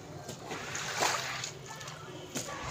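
Water splashes and sloshes across a floor while wheat residue is washed toward a drain at home, a steady wet wash with a few sharper splashes, near and moderately loud.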